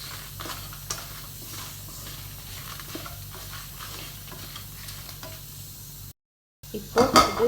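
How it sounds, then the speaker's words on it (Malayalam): Coriander powder being roasted in a pan for mutton curry: a soft, steady sizzle with scraping stirs, a brief break, then louder clatter of the spoon against the pan. "മല്ലിപ്പൊടി ഇടുന്നുണ്ട്. ഇത് നന്നായി ഒന്ന് മൂപ്പിച്ചെടുക്കണം."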